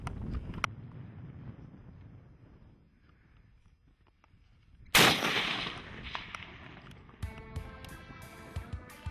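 A single sharp rifle shot from a .270 short mag hunting rifle cracks out loudly midway through a quiet outdoor scene, followed by a fading rumble and faint wind noise.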